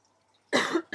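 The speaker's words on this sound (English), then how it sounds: "I'm just going to cough" A congested, chesty cough bursts out loud and close after a near-silent pause, followed by the start of a second cough.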